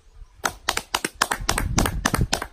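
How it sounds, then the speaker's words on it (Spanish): Clapping from a small audience during a llanero music performance at a Colombian ranch, sharp distinct hand claps in a loose, fairly regular rhythm, close and moderately loud after a quiet start. "ahí pueden aplaudir"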